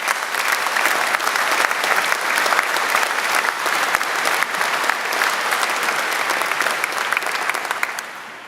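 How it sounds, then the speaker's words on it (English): Sustained audience applause for the musicians at a graduation ceremony, a steady dense wash of many hands clapping at even volume throughout, easing slightly at the very end. "Please join me in giving them a warm round of applause."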